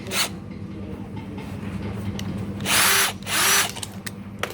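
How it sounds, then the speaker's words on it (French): A power drill unscrews the collar on cast iron SMU drain pipe, giving two loud close whirring bursts of about half a second each, with a short earlier burst and faint handling clicks in between. "Donc, je dévisse."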